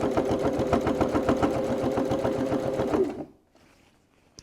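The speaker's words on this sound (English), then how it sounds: "I'm probably stitching about 4 inches and then stopping, readjusting." A sewing machine stitches through several layers of a cosmetic bag with a rapid, even mechanical chatter for about three seconds, then stops abruptly and leaves near silence.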